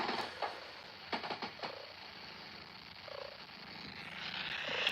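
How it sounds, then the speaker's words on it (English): Pet cat Tusik purring close by, a soft continuous rumble with a few brief sharp taps and rustles over it, no talk. "So that was my cat."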